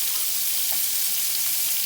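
Chopped onion and garlic sizzle in a pan while being sautéed, making a steady, close, broadband frying hiss that runs evenly through the whole moment with no talking.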